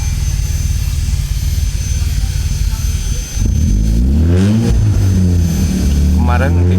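A Toyota Great Corolla with a 4A-FE engine idles while warming up, a loud, steady low hum with a constant whine above it; someone talks over the engine in the second half.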